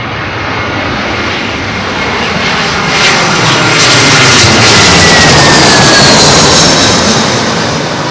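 A heavy airliner lands in a gusty southwest crosswind on runway 27L at London Heathrow Airport, its loud jet engine roar swelling as it passes close and staying steady, with no voices.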